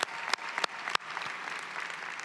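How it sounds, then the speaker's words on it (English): A commencement crowd gives the Board of Trustees another round of applause, a full, steady clapping with a few sharp, close claps popping out near the start. "Let's give them another round of applause to our Board of Trustees."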